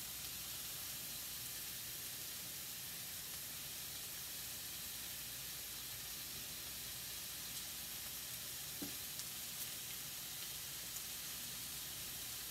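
A steak sizzles in a pan heated almost to high, giving a steady, dense hiss that carries on alone without pause, with only a faint tick now and then.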